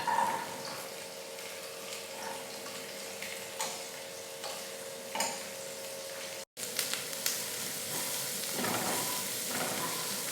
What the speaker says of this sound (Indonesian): siap-siap kita panaskan teflon, kasih minyak, dan masukkan bawang bombay ke dalam teflon tadi